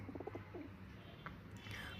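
Pigeons coo softly in a loft or rooftop setting, low murmuring calls repeating near the start and again toward the end over steady background hum, with faint chirps; no one speaks.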